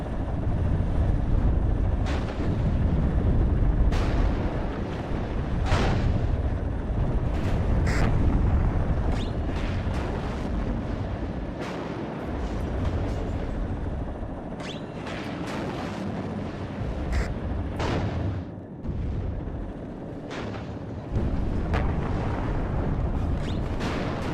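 Battlefield gunfire in the Cold War strategy game WARNO, an airborne assault on the Kassel stronghold: a steady roar of booming shots and rumbling explosions, loud and dense throughout with sharp cracks standing out every few seconds.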